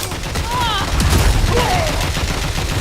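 Continuous rapid gunfire in a Final Fantasy XIV game scene, loud and dense throughout, with brief whistling effects and a voice speaking over it.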